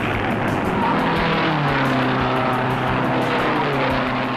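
1964 Lotus-Ford Indy race cars roar around the oval at racing speed, a loud, continuous high-pitched engine drone with rising and falling pitch as cars pass, no voices.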